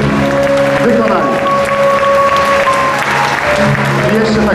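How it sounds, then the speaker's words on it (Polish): Applause from an audience for a gospel choir at a gospel workshop concert in Namysłów, a dense, steady wash of clapping held under sustained tonal hum or instrument tones throughout. "naprawdę wielkie brawa dla nich, bo kawał roboty wykonali"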